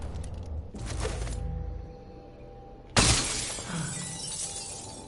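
A window pane shatters in Dishonored 2: a sharp, loud smash around the first second with falling glass, then a second crash of glass a couple of seconds later, no voices.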